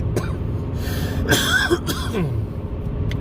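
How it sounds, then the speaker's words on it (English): A couple of short, harsh coughs cut through a muffled background hum, a person clearing their throat close by. "just cannot get over this cough"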